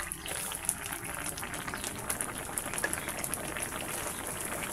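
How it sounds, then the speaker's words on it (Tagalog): Coconut milk sauce for catfish paksiw bubbles and simmers in a pot as it reduces, a continuous close fizzing burble at an even, moderate level with no voices. "hintay-hintay lang nating mag-reduce ng konti yung kanyang gata"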